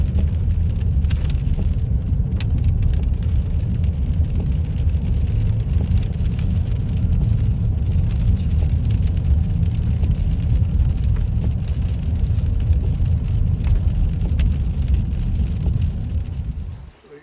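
Rain falling steadily in a South Carolina state park, a continuous dense hiss with a low rumble underneath, loud and unbroken until it cuts off at the end.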